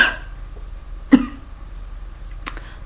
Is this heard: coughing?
yes